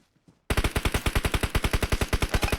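Rapid automatic M4 rifle fire in PUBG Mobile, a steady, fast burst of evenly spaced shots, loud and close, following a brief quiet moment.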